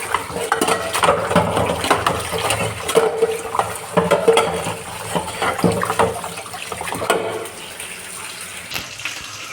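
Running tap water splashes steadily while items are scrubbed and rinsed in a sink, with scattered clinks and knocks of dishes throughout and no talking.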